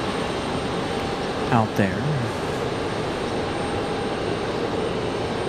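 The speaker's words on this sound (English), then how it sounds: "So the A321 off to Charlotte" An Airbus A321 jet departing Raleigh-Durham for Charlotte gives a steady broadband engine roar at moderate distance, with a brief voice heard over it.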